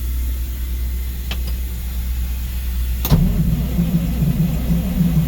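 Old Dodge diesel semi truck being cranked, a low engine drone with a sharp click partway through, then heavier rumbling cranking, loud and close, with no speech.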